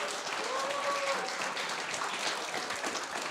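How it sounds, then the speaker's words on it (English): Sustained applause from an audience at an education technology hackathon's final pitches, dense clapping that stays steady throughout, with a brief tonal whistle near the start. "big applause to all of you who have participated in the pitch"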